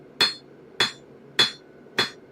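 Four evenly spaced, ringing hammer blows on a hot railroad spike being forged into a dagger, each strike sharp and metallic, close and loud with quiet gaps between.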